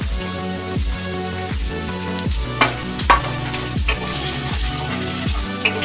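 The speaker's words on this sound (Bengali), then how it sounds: "এবার আমি দিয়ে দেব আলু। সব সবজিগুলোই দেবো একে একে, একটু আলুটা আগে নাড়াচাড়া করে নেব" Potatoes sizzle loudly in hot oil in a pan for chira pulao, a constant close frying hiss punctuated by regular scraping strokes of a spatula turning them over.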